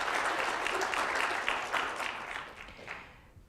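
An audience at a college presidential briefing applauds for honorees, a dense burst of clapping that holds steady for a couple of seconds and then thins and fades out.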